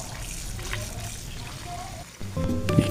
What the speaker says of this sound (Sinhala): මුලින්ම අපි මස් ටික හොඳට හොද ගන්න ඕන